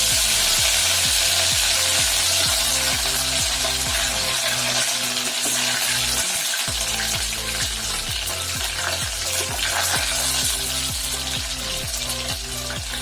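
Curry leaves hit hot oil for Pallipalayam chicken, a loud, continuous sizzle and crackle from the pan with some metallic stirring scrapes, running for about thirteen seconds with no talking.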